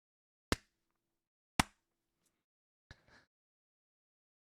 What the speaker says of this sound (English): Do a little clap to know.